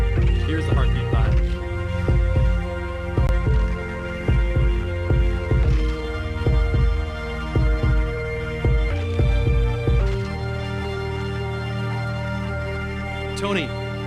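A music track plays a deep, pulsing heartbeat-like beat, with thudding low hits in an irregular double rhythm over humming synth tones that fade to a sustained drone near the end.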